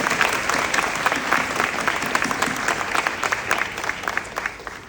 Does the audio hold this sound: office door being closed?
no